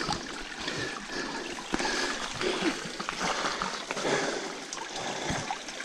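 Water trickles and splashes steadily along a mountain hiking trail, a close, continuous bubbling flow with small irregular splatters and faint background voice.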